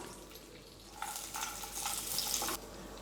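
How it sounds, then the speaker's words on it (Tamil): Cashews and raisins fry in melted ghee for semiya kesari, a soft hiss swelling into a louder bubbling sizzle for about a second and a half, then dropping back to quiet, with no speech. "அதை நெய்யில் நல்லா வறுத்து எடுத்துடலாம்."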